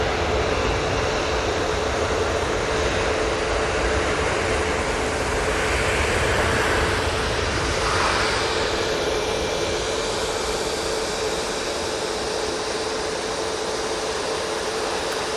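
A Juneyao Airlines jet arriving at Manchester Airport gives off a steady, loud broadband engine roar that rises slightly in the middle and continues without a break, with no voices.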